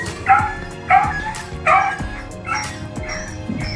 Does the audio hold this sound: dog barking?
yes